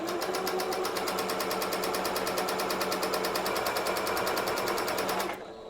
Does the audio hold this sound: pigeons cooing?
no